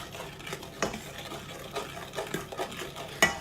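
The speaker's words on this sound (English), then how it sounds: "So we stir that in." Banana cake batter being stirred with mashed butter in a pan, a few scraping knocks of the spoon against the bowl at uneven intervals, close and fairly quiet, with no talk.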